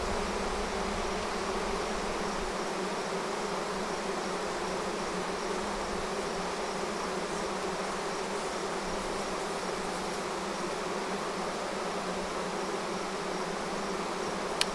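A swarm of honey bees hums steadily and densely as it is being hived, a continuous close buzz with no voices.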